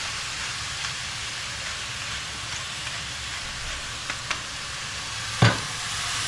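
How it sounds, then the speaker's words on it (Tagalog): Ground pork giniling frying in a pan as pepper is added, giving a steady hiss of sizzling with a few small pops and one sharper tap near the end, with no talking. "talagang satisfying pag narinig mo yung sounds ng pag lagyan natin siya ng pepper"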